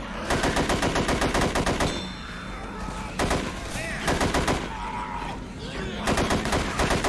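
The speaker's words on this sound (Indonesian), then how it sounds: "gue pakai shotgun ya dari awal ya" Rapid bursts of shotgun fire in the video game Left 4 Dead 2, loud repeated blasts in several volleys with brief pauses between them, plus scattered game effects.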